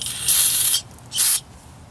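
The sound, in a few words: spraying oil on brake caliper bolts, Honda CR-V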